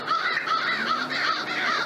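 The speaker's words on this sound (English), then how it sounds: "Yeah, crow, I think." Crows caw continuously in a wooded hunting area, a loud, harsh, overlapping chorus of repeated calls that sound close and agitated, with no talk.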